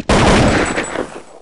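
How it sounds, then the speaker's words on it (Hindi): Rapid bursts of gunfire from the video game Counter-Strike 1.6 on the Dust 2 map, loud and close, with shots overlapping into a dense rattle that fades slightly toward the end. "शॉट दो जगह से मारा, इधर से भी मारा शॉट"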